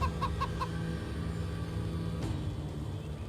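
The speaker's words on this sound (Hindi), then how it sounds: "ये है ना असील मुर्गा, नस्ली।" An Aseel rooster, a fighting chicken breed, clucks in a short burst of repeated calls early on, then a single sharper note, over a steady low rumble of background noise.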